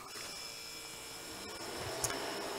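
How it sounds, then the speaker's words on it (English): A home freeze dryer just switched on, giving a steady, faint electrical hum with a faint tonal whine, even and continuous throughout with one small click near the end. "So I'm going to go ahead and turn on the freeze dryer."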